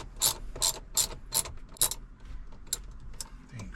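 A hand ratchet clicks in quick bursts while backing a screw out of a Ford F150 steering column, a fairly close, crisp mechanical ratcheting repeated several times with small pauses between strokes.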